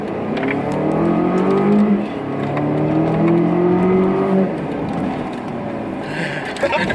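A 2014 Volvo XC60 T6 with a turbocharged engine pulls hard at full throttle, the engine note climbing steadily through two long rising sweeps, heard from inside the cabin before it eases off near the end.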